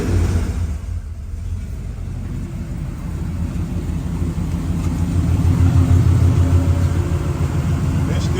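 A 1969 Chevelle V8 fitted with Holley Sniper EFI idles with a deep, loud rumble, then swells as the throttle is blipped, the revs rising and holding heavily near the end.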